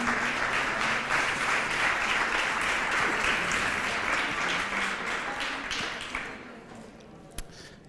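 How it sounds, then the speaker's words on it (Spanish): Audience applause welcomes a speaker at a talk on participatory housing design, a dense, steady wash of many hands clapping that slowly thins out toward the end, with a lone clap or two after it fades. "Le damos un aplauso a nuestro aguileño, se diría, ¿sí?"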